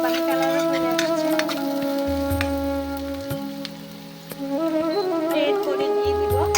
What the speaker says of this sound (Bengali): পেঁয়াজটা আর একটু নেড়ে চেড়ে দিব।